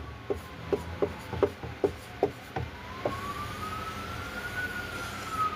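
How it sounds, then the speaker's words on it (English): Writing is being rubbed off a board in a run of about eight evenly spaced, scratchy strokes, followed by a rising, wavering whine in the background. "Let me rub off the part that we don't need."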